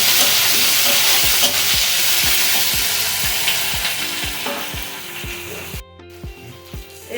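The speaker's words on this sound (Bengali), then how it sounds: "এবারে পেঁয়াজ এইগুলো একটু নেড়ে নেব।" Onions stirred as they fry in a pan for a Bengali kalmi and sona leaf fry, a steady sizzle with a regular run of sharp utensil scrapes and knocks against the pan, briefly cutting out near the end.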